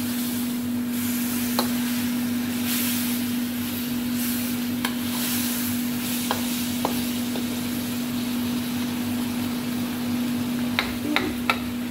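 Vegetarian noodles simmering in a sauce in a pan, giving a soft, steady sizzle over a constant low hum, with occasional faint clicks and utensil taps, nobody speaking.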